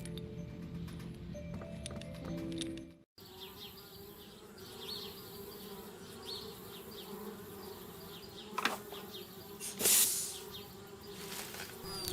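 Bees buzz steadily in the Anna's Quest video game, a dense droning hum that runs throughout with a brief cut near the start and a few louder swells later on.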